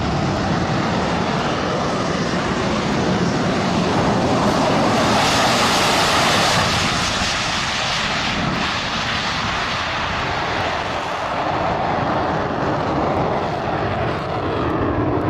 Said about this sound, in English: This plane doing a jet-assisted takeoff